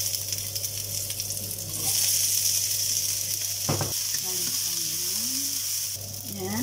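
Garlic sizzles in a little oil in a pan, a steady, soft frying crackle that continues throughout, with a brief clatter partway through and a faint voice in the background.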